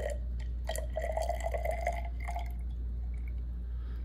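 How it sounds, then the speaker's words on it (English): Water being transferred into a container for a food calorimetry lab, soft close drips and small glugging splashes over a steady low hum, tapering off toward the end. "Now I'm gonna transfer this water until we get approximately 75 milliliters of water."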